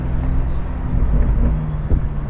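A BMW M5 or X6M engine rumbles low and steady in town, with a few short crackling pops from the aftermarket exhaust as the throttle opens.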